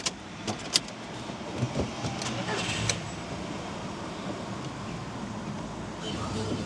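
A cheap secondhand Audi A2 with its engine warning light on, heard from inside the car as it cranks and starts, then runs at a low, fairly quiet steady idle with some clicks and thumps.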